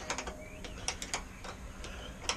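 A hand tool working loose the bolt on an FMF Q4 quiet insert in a motorcycle exhaust, a string of quick metallic ratcheting clicks and ticks, close and fairly faint.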